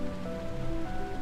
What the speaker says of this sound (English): Oh, it's raining. It's raining outside.